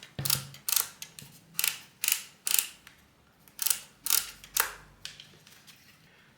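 The depth adjustment knob of a Parkside Performance cordless planer is turned in close, loud bursts of ratcheting clicks, about a dozen evenly spaced detent snaps separated by brief pauses, with no voices.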